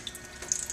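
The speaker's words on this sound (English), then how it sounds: "We now have water coming out of the tap." Water running from a tap after an RO membrane filter, a steady soft hiss of flow with no voices.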